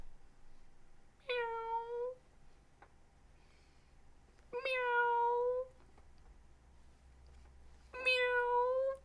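A cat meows three times, each call drawn out and evenly spaced a few seconds apart. The calls are clear and fairly close against a quiet, low background hum.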